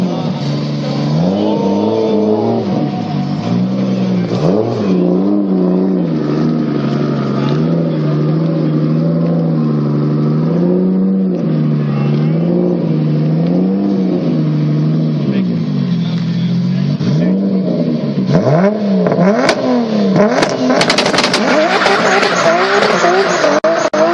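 A Toyota Supra MK4 turbo engine revs loudly and steadily with rising and falling harmonic tones, joined by more revving and crackle toward the end, while people talk in the background.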